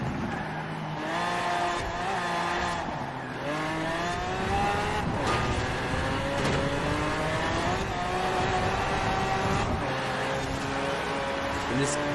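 A Cadillac Escalade races in Forza Horizon 4, its engine droning loudly and rising through the gears with shifts and tire noise. A person talks over it throughout.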